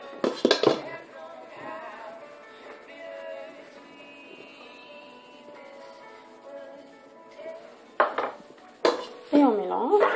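Metal utensils clatter against a bowl as sugar is mixed into egg yolks, with clustered scraping clinks at the start and end and quieter ringing tones in between.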